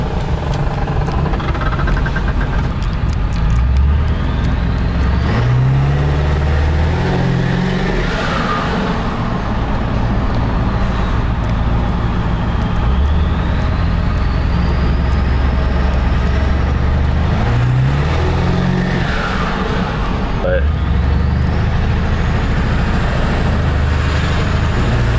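A 7.3 L Powerstroke diesel truck with a 10-inch exhaust, heard with the windows down, pulls hard with a loud engine roar while a rising and falling turbo whistle sweeps up and down over it, twice climbing to a high shriek.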